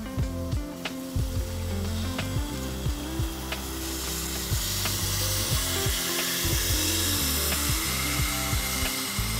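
A knife blade being sharpened freehand on a belt grinder, a steady whirring motor hum with repeated rasping passes of steel against the abrasive belt in a fairly regular rhythm, close and continuous without speech.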